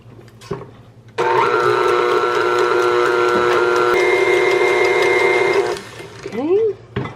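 An electric hand mixer whirs steadily through whoopie pie batter in a home kitchen, a loud, continuous motor whine with a slight pitch shift partway, starting abruptly and stopping after several seconds, with a voice speaking briefly around it.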